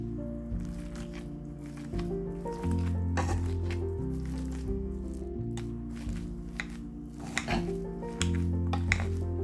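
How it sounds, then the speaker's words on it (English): Boiled potatoes being mashed with butter in a pot, heard as repeated close squishy presses and soft thuds with occasional clinks of the masher against the metal pot, no voices. "Make mashed potatoes."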